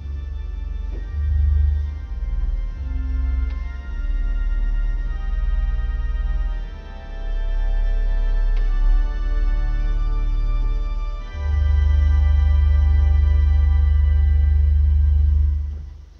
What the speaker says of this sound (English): some beautiful effects with the octave and sub octave couplers